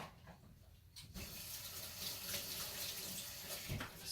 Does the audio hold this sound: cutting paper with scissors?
no